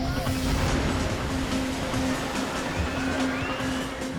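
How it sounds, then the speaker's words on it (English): Giant ocean tsunami waves roll in as a continuous broad roar of surf and churning water, steady and loud throughout with no break. "Giant waves with immense power."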